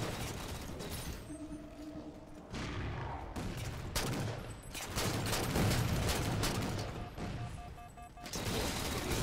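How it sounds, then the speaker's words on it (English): Concussion rifle in Halo multiplayer, loud bursts of weapon fire that come in irregular clusters with short gaps, mixed with mechanical clanks and other battle noise. "I shouldn't use the concussion rifle."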